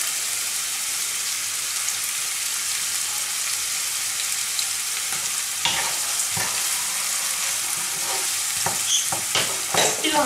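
Onion and garlic frying in a pan, a steady broadband sizzle with occasional stirring clicks and scrapes near the end, close and continuous with no talking.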